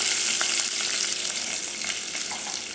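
Urad dal, curry leaves and hing frying in hot oil for gothsu, a dense, bright, continuous crackling sizzle heard up close, loud and steady with tiny pops, no talking.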